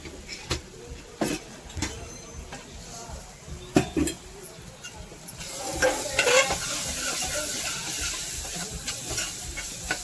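Peas usal going into a hot tempering of onion, tomato, red masala, turmeric, asafoetida and onion-coconut paste, with stirring clatter and brief bursts, then a steady loud sizzle that rises and holds; faint voices in the background.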